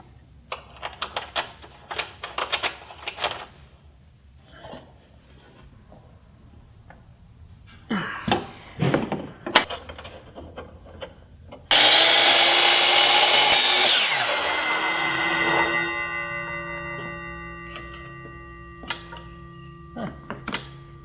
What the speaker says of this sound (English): What I'm going to do now is to go ahead and tighten these up along the top here.